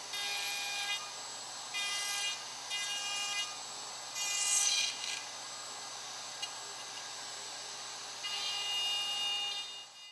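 A router with a straight bit and guide bushing cuts through-dovetail pins in wood on a Leigh Super Jig, giving several loud bursts of high whining cuts that start and stop over a constant motor hum.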